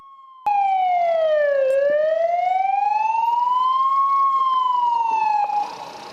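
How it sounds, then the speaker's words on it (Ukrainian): A loud, close siren from an ambulance or emergency service vehicle wails, sweeping down and back up in one long cycle before cutting off into road noise. "Ви їдете, включаєте маячки і сирену"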